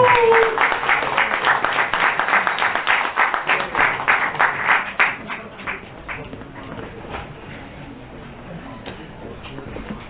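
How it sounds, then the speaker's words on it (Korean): An audience at a theology seminar at a Korean university claps to welcome a professor. The applause is brisk and moderately close for about five seconds, then tapers off into scattered claps and room noise. "교수님 나오실 때 박수로 환영해주십니다."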